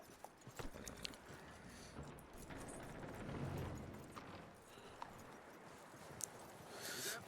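Horse hooves clip-clop steadily in Red Dead Redemption 2, a continuous rhythmic trotting under faint ambient game noise.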